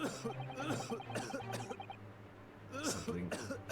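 A character coughs in The Great Ace Attorney Chronicles video game, a few short raspy coughs mixed in with ongoing talk.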